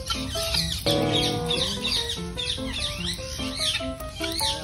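A pet Indian ringneck parakeet being fed gives repeated short, harmonic squawks and chattering calls in quick bursts, close and fairly loud, with no talking over them.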